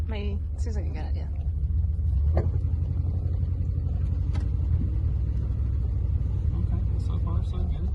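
A 1975 Rolls Royce Silver Shadow with SU carburettor problems drives along a road, its low steady engine rumble and road noise filling the interior while people talk over it.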